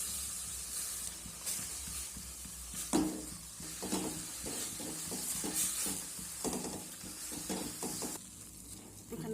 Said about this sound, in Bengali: এবার গাজরটাকে নেড়ে চেড়ে আমি এর জলটা শুকিয়ে নেব।